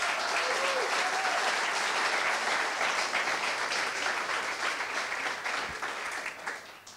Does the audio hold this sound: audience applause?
yes